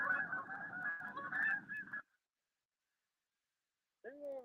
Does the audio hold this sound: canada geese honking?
yes